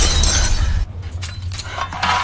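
Glass shattering in a horror film scene, a loud burst of breaking glass that cuts off abruptly, followed by scattered tinkling shards and a rumbling undertone.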